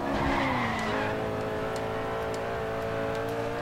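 Tires of an Audi RS5 Coupe skid and squeal through a corner in the racing game Grid 2, a steady sliding screech over the droning engine, close and continuous.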